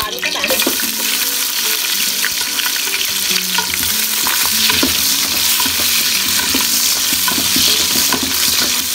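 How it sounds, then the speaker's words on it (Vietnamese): Minced garlic fries in a pan while being cooked for a duck curry, giving a loud, dense sizzle with scattered stirring scrapes and clicks throughout. "Bây giờ mình sẽ cho và tỏi bằm vào đi các bạn."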